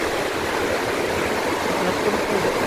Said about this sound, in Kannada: ಅಲ್ಲೊಂಚೂರು ತಕ್ಕಂಬ ನೀರು ಹರಿತಾ ಇದೆ